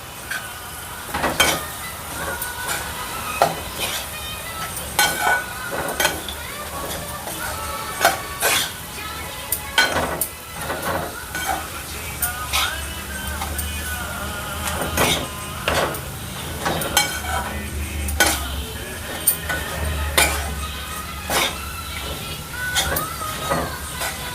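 Roasted wheat flour is stirred into ukadpendi cooking over lowered heat, with repeated scraping and clattering of a spoon against the pan and a soft sizzle underneath.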